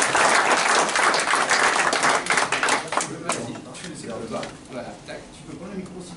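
A crowd claps in a burst of applause that gradually thins out, with voices chattering underneath as the clapping fades.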